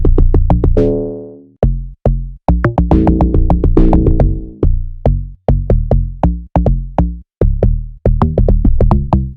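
Two types of log drum sound, including a default Amapiano log drum, play in an Afrobeats beat, their deep tuned plucks bouncing in a syncopated pattern with occasional longer sustained notes, loud and without voices.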